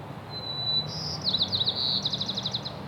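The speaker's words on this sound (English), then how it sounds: "There's some bird up here that's just singing a tune." A bird sings close by outdoors, a thin high whistle followed by quick repeated chirping trills that run in rapid rhythmic bursts over a faint low background hum.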